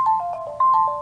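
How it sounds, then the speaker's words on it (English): A phone ringtone chimes close by, a short tinkling melody of bright repeated notes that briefly gets louder. "And that was my phone."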